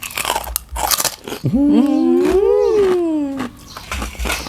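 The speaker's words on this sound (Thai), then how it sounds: "กัดให้พี่น้องฟังเสียงนะ" Crispy pork in spicy papaya salad with tomatoes bitten close up, crisp crunches at the start and end around a drawn-out, wavering hummed vocal sound in the middle.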